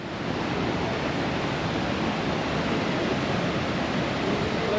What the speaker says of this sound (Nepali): यो चाहिँ पुतपुते झरना।